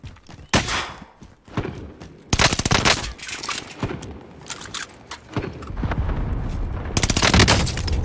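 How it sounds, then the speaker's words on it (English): Video game gunfire in Call of Duty: Warzone on Alcatraz, with loud bursts of automatic fire and booming shots, some near and some farther off, separated by short lulls. "we got a guy over here shooting at me."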